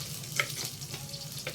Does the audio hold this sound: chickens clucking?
no